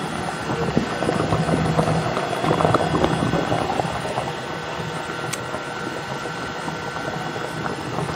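An ice cream machine churns banana split ice cream, giving a steady, unbroken mechanical whir with a gear-like rattle that runs the whole time at an even, moderately loud level, with no voices.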